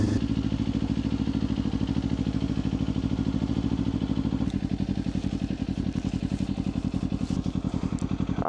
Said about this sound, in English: This thing, like, actually sounds like a motorcycle now.